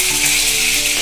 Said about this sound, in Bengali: নিরামিষ সবজিটা দিচ্ছি